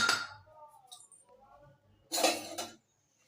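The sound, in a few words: lid being closed on a cooking pot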